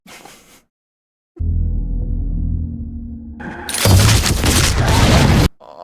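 A loud gunshot from the Fallout TV series booms out of a stretch of rumbling score, leaving a dense crashing burst of noise that cuts off abruptly.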